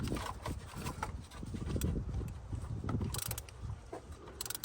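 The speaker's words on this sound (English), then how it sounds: "So right now I'm tightening it with my wrench until I cannot go any further." A wrench tightens the oil drain plug on a Chevy HHR during an oil change, giving faint clicking and metallic ratcheting under a steady mechanical background, with no voices.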